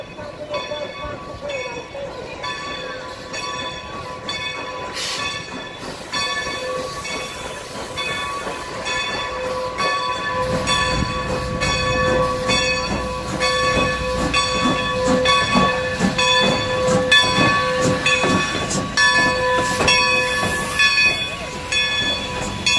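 A Strasburg Railroad train passes close by, with steady rumbling, hissing steam and rhythmic clanking of wheels that grow louder and denser midway, along with tonal whistle-like squeals, and no talk over it.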